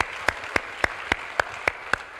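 A church congregation clapping together in unison, seven sharp, evenly spaced claps in a brisk steady beat, with a faint room murmur between them.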